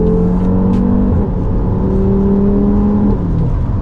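A 460 bhp Audi RS3 8P Stage 2 with quattro drive accelerates hard on the road. Its loud, steady engine drone rises in pitch, drops briefly at a shift, then climbs again, heard from inside the car.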